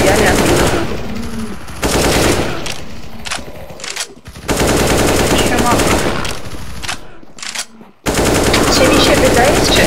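Bursts of UMP45 submachine gun fire in the CS GO video game, a Zombie Riot mod match, rattle in loud rapid volleys separated by short gaps, with other game sounds in between.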